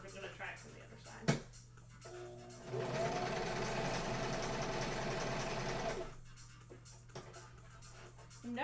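A home sewing machine stitches an Among Us plushie in one continuous close run of several seconds, with quieter handling and a brief knock before it starts and a pause afterwards.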